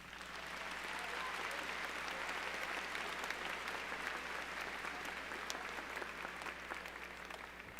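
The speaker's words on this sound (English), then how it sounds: "Students, will you please give your teachers a round of applause?" A large crowd at a high school graduation ceremony applauds the teachers, a continuous wash of clapping from many people heard at a moderate distance.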